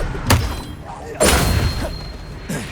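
Incendio and Expelliarmus spell blasts from a game: two sharp, loud bursts about a second apart, each trailing into a rumbling decay, with a softer thump near the end.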